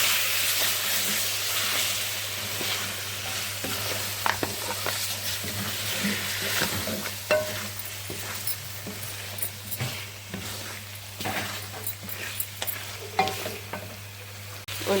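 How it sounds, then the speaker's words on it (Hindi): Mutton karahi frying with a cup of yogurt added, a continuous loud sizzle and hiss with repeated stirring and scraping clicks against the pan, close up and with no voices. "1 कप दही है, इसे भी डालकर भून लेंगे हम"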